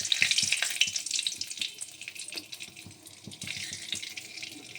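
Whole garam masala spices dropped into hot oil in a wok with a little salt, crackling and spitting in irregular bursts of sizzle, loudest at the start and then settling, with no talking.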